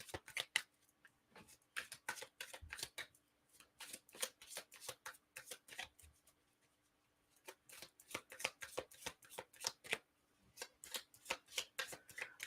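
Tarot cards are shuffled by hand in a quiet room, a close, crisp riffle of rapid flicking bursts repeating in several runs with brief pauses between them, no talk.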